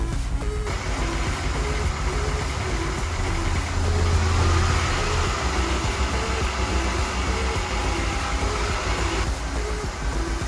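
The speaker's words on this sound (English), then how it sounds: "It's idling kind of high." A 1998 Honda Odyssey with a swapped JDM F23A engine idles high, holding a steady close drone with a faint electronic beep tone over it and no talking.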